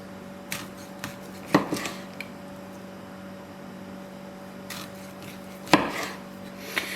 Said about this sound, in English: I'm just going to slice the entire log like this.